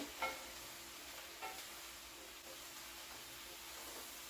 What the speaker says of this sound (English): We want to actually have them frying in here eventually.